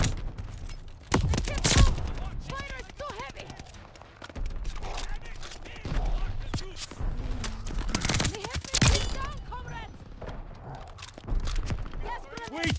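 Heavy gunfire in Call of Duty Vanguard crackles through a busy firefight, sharp shots bursting repeatedly over a constant battle din while voices call out over the noise.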